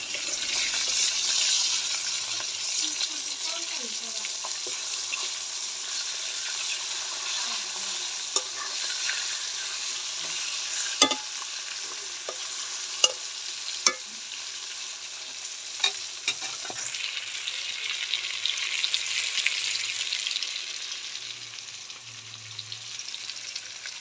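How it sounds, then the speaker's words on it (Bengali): Rohu fish pieces frying in a pan, a steady hissing sizzle throughout with a few scattered clicks and scrapes as the pieces are flipped, close up and without talk. "এবার মাছগুলো উল্টাই দিব।"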